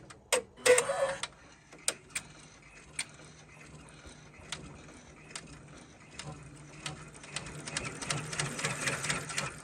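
An embroidery machine stitches out a fitness logo with zigzag stitching, giving rapid mechanical ticking and clattering needle strokes. Sharp bursts come early, then a fainter, steadier chatter. The sound is fairly quiet, with no voice.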